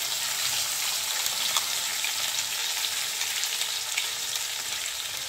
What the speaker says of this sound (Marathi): याला व्यवस्थित ग्रेव्हीला ना फ्राय करून घ्यायचं आहे